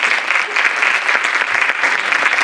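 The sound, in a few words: audience applauding after a talk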